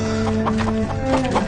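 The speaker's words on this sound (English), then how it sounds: "Fucking chickens." Chickens clucking nearby in a short burst of rapid, overlapping clucks, fairly loud and close over low background noise.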